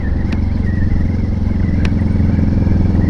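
Heavy road traffic on a shortcut route toward Nasugbu, Batangas, with motorcycles and cars droning loudly and continuously close by, engines rumbling with occasional clatter.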